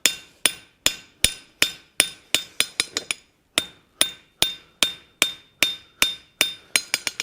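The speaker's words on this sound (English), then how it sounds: "this is why I choose this hammer for this type of work when it's small" A small forging hammer strikes hot metal being shaped into a simple latch, sharp ringing blows landing in a steady rhythm, close and loud, with a quick burst of lighter taps and a brief pause midway.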